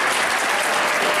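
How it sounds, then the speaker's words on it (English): Audience applause at a Dakota Digital Film Festival event in Bismarck, North Dakota: a steady, dense wash of many hands clapping that fills the room at even loudness throughout. "Give them a round of applause."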